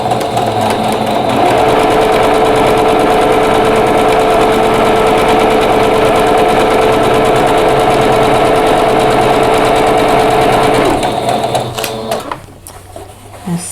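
A sewing machine stitches quilting fabric in one loud, steady run close by, then stops near the end with a few soft handling clicks.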